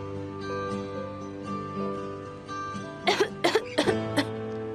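A woman coughs in a short burst of four or five sharp coughs near the end, following a stretch of steady background music with no speech.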